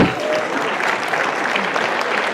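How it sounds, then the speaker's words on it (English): Audience clapping for a speaker at a public address, a dense, steady burst of applause from a crowd, loud and close throughout. "Please clap for me."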